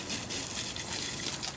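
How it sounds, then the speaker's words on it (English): Fishing reels get a steady rinse of fresh water from a hose or tap, a continuous close gushing hiss with no pauses and no talk. "I reel in the line, and then I give the reels a quick rinse"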